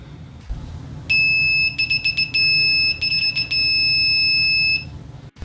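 Continuity beeper of a Mastech MS8269 multimeter sounds loud and close as a high, shrill tone, first held, then broken into several quick stuttering beeps, then held steadily again before it stops.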